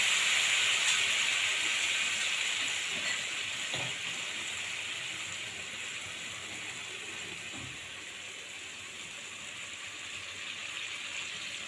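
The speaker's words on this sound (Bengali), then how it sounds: "এই যে মাছ তেলের উপরে দিয়ে দিয়েছি এই যে টক দিয়ে দিলাম টক বলছি সরি তেঁতুল জল দিয়ে দিলাম" Hilsa fish sits in hot oil as tamarind water is poured in, raising a loud, sustained steamy hiss and sizzle that eases slightly over the span, with no voices.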